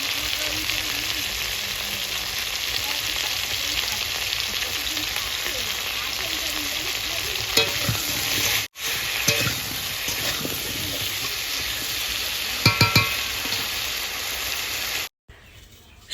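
Chunks of elephant yam and mixed vegetables fry in a pan with a steady, close hiss of sizzling oil, broken by a few scraping stirs and clatters in the second half and a brief cut near the end.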